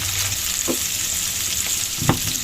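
Tomatoes frying and sizzling in a pan of hill vegetables, a steady close hiss with a couple of brief stirring clatters.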